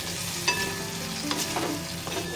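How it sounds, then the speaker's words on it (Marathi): Cooked potatoes for sabudana khichdi stirred in a pan, a short burst of soft sizzling with a couple of scraping knocks from the spoon. "इथे थोडंसं हलवून घ्यायचं"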